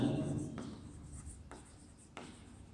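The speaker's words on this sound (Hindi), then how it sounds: "और नीचे वाली लाइन में लिखेंगे" Pen or pencil writing on paper during a Class 3 maths lesson on money, soft scratching strokes with a few sharper taps, quiet and close, with a teacher's voice briefly at the start.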